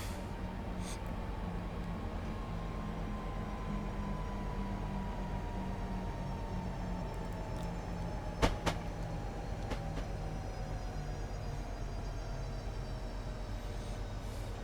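A Class 395 train in Train Simulator, running London to Faversham, runs steadily with a low, even rumble and a slowly falling motor whine, broken by a single sharp clunk partway through.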